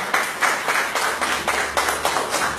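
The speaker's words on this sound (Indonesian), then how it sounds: "Aplaus Bapak Antonius." An audience gives a short burst of clapping at a financial regulator talk, rhythmic and moderately loud hand claps pulsing for a few seconds.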